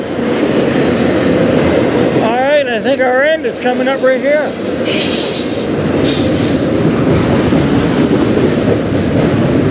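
A CN train passes close by, a loud rolling rumble with high, wavering wheel squeals rising over it for a couple of seconds, then steady clatter continuing; someone speaks over the noise early on.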